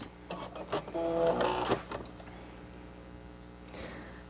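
A sewing machine runs in a couple of quick stitching bursts through face-mask fabric, back-stitching at the seam, then falls quiet with only faint room noise.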